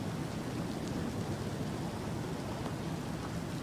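Steady, dense rain pours down during a monsoon thunderstorm, an unbroken hiss of drops on surfaces with no pauses or distinct peaks.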